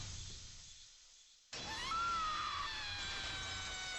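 A video game character lets out a scream that cuts in suddenly after a quieter stretch, a drawn-out cry over a steady background that stays fairly faint overall.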